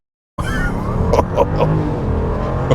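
Hard acceleration from a 2022 Jeep Grand Wagoneer's 6.4-liter V8: silence breaks into a loud, sustained engine roar that holds steady for over two seconds.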